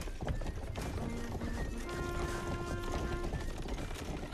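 Horses gallop with rapid clip-clopping hooves in the medieval game Rustler, with whinnies and neighs over a busy, loud game soundscape and background music tones; no talking.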